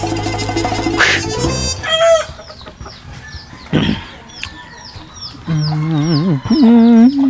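Chickens cluck and squawk close by in bursts, with a rooster-like call and warbling clucks toward the end; no talking.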